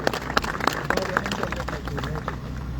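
Crowd applause rises at a government employees' protest meeting in Islamabad, thanking a negotiating committee; scattered claps and a steady wash of hand-clapping fill the room, with murmuring voices mixed in.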